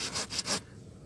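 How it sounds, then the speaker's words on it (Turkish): A coarse, large-toothed cross-cut grafting saw cuts into tree rootstock, making a few quick rasping strokes that stop after about half a second, close and fairly loud. "Şu görmüş olduğunuz testere özel bir testeredir. İri dişli, çaprazlı bir testeredir."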